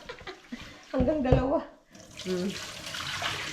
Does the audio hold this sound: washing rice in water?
yes